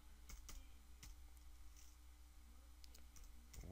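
Sparse, quiet clicks from typing on a computer keyboard: a handful of light keystrokes spread irregularly over a steady low background hum.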